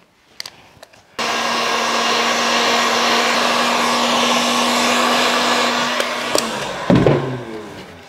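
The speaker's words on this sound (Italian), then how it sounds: "scaldo leggermente con il phon il fregio" A hair dryer switches on with a few clicks, then blows with a loud, steady whir for several seconds while lightly heating a decorative border, before being handled and cut off.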